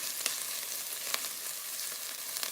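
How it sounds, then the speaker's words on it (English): Onions soften as they fry in oil in a pan for a masala base sauce, giving a steady close sizzle. A few soft clicks come from stirring. "Let me just check the onions again. give them a stir through."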